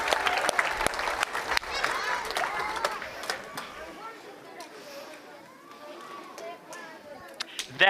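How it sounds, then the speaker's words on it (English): Audience clapping for the dads at an Easter event, loud scattered claps with cheers tapering off into children's chatter and voices, a few sharp claps returning at the end. "One more round of applause for all of our daddies."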